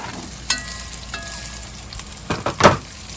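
Squash dropped into hot oil in a pot at a campsite, loud bursts of sizzling that flare at the end after a quieter stretch with a couple of faint clinks.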